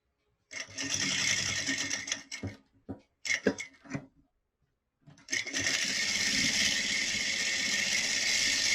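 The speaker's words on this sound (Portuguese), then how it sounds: "aqui vou fazer uma costurinha bem na borda, dos 3 lados" A sewing machine stitches along the edge of a fabric phone-and-document pocket in loud close bursts: a long run, several short stuttering stitches, a pause, then another sustained run, with no talking.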